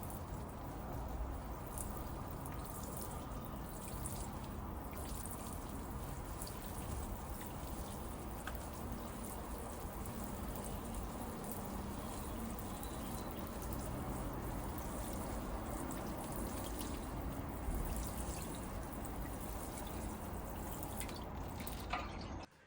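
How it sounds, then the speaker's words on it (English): Water from a full watering can poured steadily over bonsai soil for a long stretch, a soft continuous splashing and trickling wash that stays quiet and even throughout, with no talking. "I'm just going to run an entire watering can over the soil"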